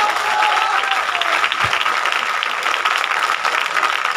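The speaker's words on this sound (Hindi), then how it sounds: "तो एक बार खूब जोर से ताली बजा लो अपने लिए।" An audience claps and cheers loudly at a business leadership meeting in Kanpur, a sustained, dense wave of applause from a large crowd that holds for several seconds.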